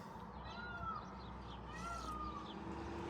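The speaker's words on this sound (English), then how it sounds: "You hear that? A cat. There's a cat somewhere." A cat meows faintly at a distance a few times over low outdoor hum, with a sharp click near the end and no talking.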